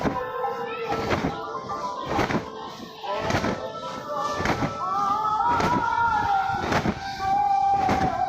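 A quilt is beaten to clear out dust, heard as about eight heavy, regular thuds roughly one second apart, close by. Voices carry on throughout.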